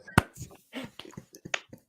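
A single person snaps fingers to mimic applause: a sharp, close snap followed by a few scattered, softer snaps and clicks, fairly quiet in an otherwise still room.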